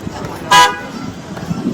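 A single short toot from an Ocean City, Maryland boardwalk tram car horn sounds close by and loud, a brief beep cutting through outdoor boardwalk noise with people talking around it.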